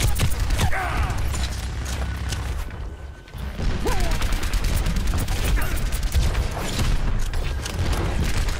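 Bastion's gunfire in Overwatch, a competitive shooter, as sustained rapid shooting and clattering mechanical effects, loud and continuous apart from a short dip in the middle.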